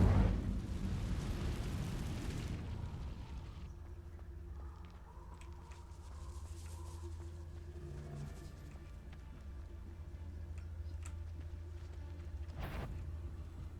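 A fire spell cast in a Harry Potter video game bursts out loudly at the start, then fades into low, steady game ambience with a brief sharp crackle near the end.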